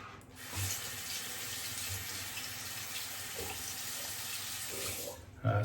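Tap water runs steadily into a sink during a rinse after shaving off several days of beard growth, a continuous close splash with a brief louder surge at the end.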